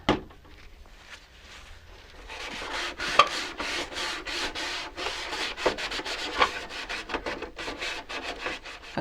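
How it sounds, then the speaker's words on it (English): Rag rubbing with WD-40 over a Milton Bradley Pivot Golf game, close and fairly quiet, a run of rhythmic scrubbing strokes that speeds up toward the end. "I've wiped the whole thing down with WD-40"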